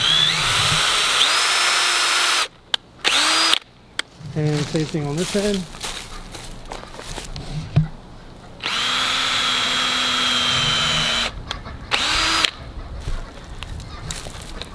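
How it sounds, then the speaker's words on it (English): A DeWalt cordless drill bores holes in a wooden privacy fence, its high whine running in several long bursts separated by pauses, with someone talking briefly between runs. "this is a DeWalt drill"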